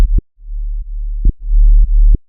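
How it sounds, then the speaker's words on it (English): A sine-wave bass synth in Serum, modulated by an LFO, plays a few deep pulsing notes with sharp clicky onsets and short gaps between them, loud and alone. "In Serum, you can just simply load a sine wave"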